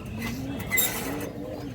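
A female pigeon coos softly and briefly nearby, one low drawn-out call set against a light backdrop of distant bird chatter.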